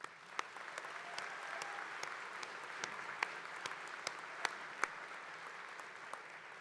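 Audience applause at a Ferris State University fall commencement ceremony, a soft, distant wash of many hands clapping with sharper individual claps popping out above it, sustained and even throughout.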